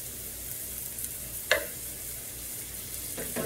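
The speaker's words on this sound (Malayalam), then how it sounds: "ഒന്ന് സോട്ട് ചെയ്യാം" Chopped onions sauté in hot oil for Indo-Chinese chicken fried rice, giving a steady close hiss broken by a single clear spatula tap and a soft scrape near the end, with no voices.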